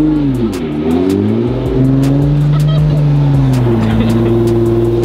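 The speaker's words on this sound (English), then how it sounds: "We are at a rooftop car meet." Cars idling and revving at a rooftop car meet, one of them an AMG: loud, close engine drone with rising and falling revs and a steady rumble, plus some voices in the background.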